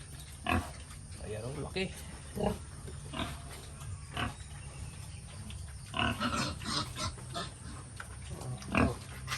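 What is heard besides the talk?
pregnant sow grunting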